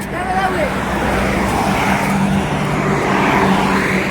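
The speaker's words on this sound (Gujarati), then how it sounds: "આ છે જામનગર અમૃતસર હાઈવે" Traffic on the Jamnagar–Amritsar highway, a continuous loud roadside rumble of passing vehicles, with voices talking faintly in the background.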